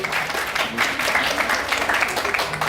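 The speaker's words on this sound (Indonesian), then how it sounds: "tepuk tangan untuk Dimas Aryo." Studio audience at an Indonesian talk show applauds loudly and continuously, a dense close wash of many hands clapping without pause.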